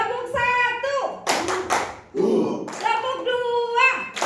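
Group of teacher trainees in a classroom workshop doing a call-and-response clapping chant: a few sharp, close claps answered by voices shouting short chant words, with the leader's speech around them.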